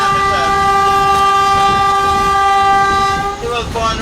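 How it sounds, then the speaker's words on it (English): A loud, sustained horn from a Caribbean scenic railway train blares close by over the rumble of the train passing under a narrow overhead, with a voice faintly underneath. "keep your hands and your bodies on the inside of the train as we pass under this narrow overhead"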